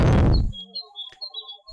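Birds chirp in a quiet village beside a pond, free of traffic noise: a few short, thin calls at moderate distance follow a brief loud burst at the start.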